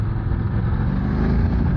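A Voge DS900X motorcycle engine pulls in sport mode with a steady, throaty mid-range drone that builds slightly in strength over a short stretch, heard close up and alone.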